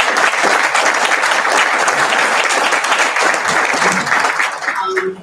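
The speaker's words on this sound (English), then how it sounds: "So I just want to thank you and applaud you." Dense, loud audience applause for chefs at a family physicians' annual business meeting continues steadily, with voices mixed in before it thins out at the close.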